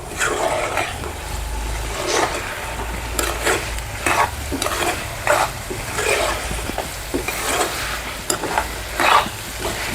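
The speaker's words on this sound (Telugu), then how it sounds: "ఇప్పుడైతే దీంట్లోనే కొంచెం కరివేపాకు వేసేసుకొని ఒకసారి కలిపేసుకుందాం బాగా." Chicken liver fry with curry leaves sizzling in a pan while being stirred, a close continuous frying hiss broken by repeated scraping strokes of the spoon.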